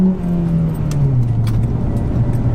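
A Honda FD2 Civic Type R pulls away close by, its engine note rising smoothly over a short, continuous stretch without talk.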